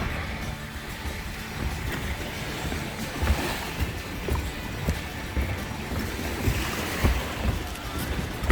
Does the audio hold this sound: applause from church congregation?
no